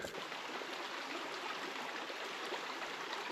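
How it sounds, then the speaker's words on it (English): A stream flows beside a walking route at a campsite, giving a steady, soft broadband rush of running water with no voices. "I think I can hear a stream or a waterfall."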